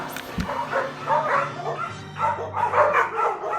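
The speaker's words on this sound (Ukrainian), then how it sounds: "Ой, собака гавкає." A dog barks and yips several times up close, loud and clear over a steady background hum, during a Ukrainian Christmas carol performance.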